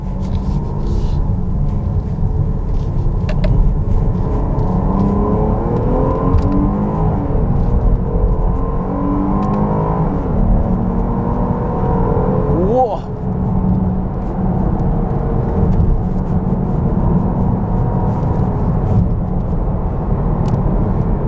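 A Jeep Grand Cherokee Summit Reserve in sport mode with lowered air suspension cruises along, giving a steady, close engine and road rumble with tire whir throughout and a brief dip near the middle, with no talking.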